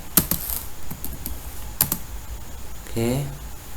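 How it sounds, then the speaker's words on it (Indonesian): Scattered clicks of a computer keyboard as a command is typed at a command prompt, close and crisp, with someone briefly speaking near the end. "setelah seperti ini kita ketikkan ya npm install"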